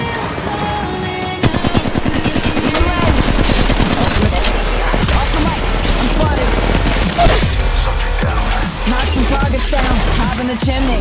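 Rapid automatic gunfire in Apex Legends Mobile, loud bursts of crackling shots in quick succession with booming impacts, mixed with game sounds and brief voice callouts.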